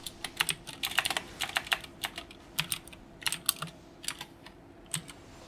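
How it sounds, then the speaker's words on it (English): Rapid bursts of typing on a computer keyboard, clattering keystrokes in quick uneven runs with short gaps, fairly close and quiet, with no speech over them. "Sorry, I had to type."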